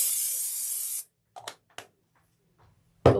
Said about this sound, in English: I'm going to spray a little stick on this.